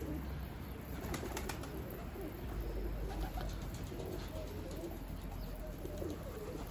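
Loft pigeons coo and flutter in a steady, close, continuous chorus with no talk over them.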